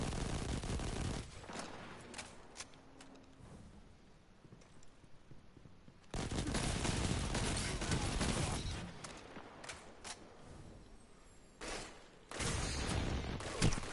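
Rapid automatic gunfire from a gun in the video game Destiny, loud sustained bursts of fast shots separated by short pauses, with faint game sounds between them.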